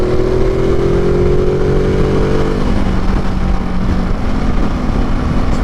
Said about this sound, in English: this is the Ducati Multistrada 1200 Enduro